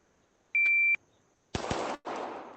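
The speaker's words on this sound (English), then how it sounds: "So we go ahead and start the timer." A steady electronic shot-timer beep starts a VR shooting drill, followed by two sharp simulated gunshots in quick succession, each ringing out into a broad burst of noise.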